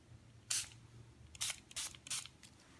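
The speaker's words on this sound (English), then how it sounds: "So I'm gonna spray him." A spray bottle hisses in short bursts, one spritz, a pause, then three quick sprays in a row, close and fairly quiet.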